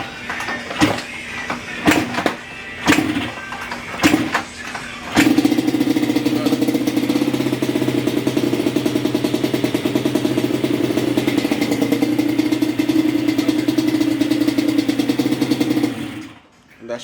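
Yamaha Banshee ATV with a blown head gasket: a few sharp clattering revs and bursts, then a steady loud idle with rough, rattling pulses that runs close up until it cuts out at the end.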